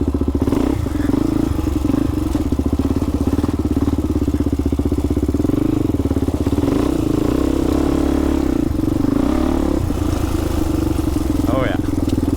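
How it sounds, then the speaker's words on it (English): A Yamaha YFZ four-wheeler ATV ridden on gravel, with a steady close engine drone, a rattling clatter and brief rises in revs, while people talk over it. "Go ride the YFZ."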